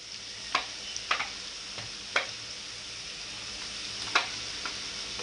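Onion and finely chopped tomato fry in a pan with a soft, steady sizzle, punctuated by a few sharp spatula clicks and scrapes as the mix is stirred.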